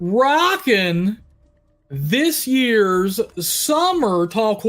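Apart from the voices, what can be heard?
No everyday noise stands out behind the speech.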